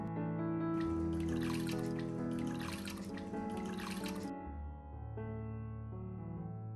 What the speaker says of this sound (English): Soak the tomatoes for about 1 to 2 minutes, then rinse them with clean water and drain them thoroughly.